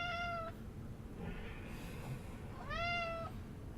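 A house cat meows twice, two clear, rising-and-falling calls spaced a couple of seconds apart over a steady low background hum.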